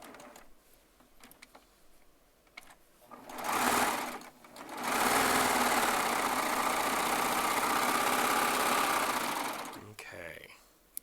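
A Baby Lock serger stitches two charm squares of fabric together, a loud rapid mechanical whir in two bursts, a short one then a longer steady run, with quiet handling noise around it.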